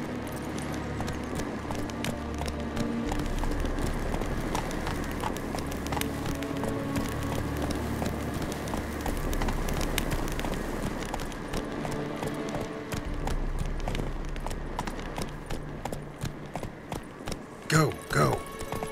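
Roach the horse gallops in The Witcher 3, rhythmic hoofbeats running steadily beneath game music and ambience, with talk over the top and a couple of louder thumps near the end.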